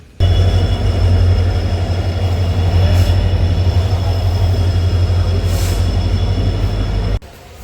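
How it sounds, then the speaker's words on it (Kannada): A train bound from Bijapur to Mangaluru rolls past close by, a loud continuous low rumble of wheels and carriages with metallic clatter and faint squeals, cutting off abruptly at the end. "ನಾವು ಹೋಗ್ಬೇಕಾಗಿರೋ ಟ್ರೈನ್ ಬಂತ."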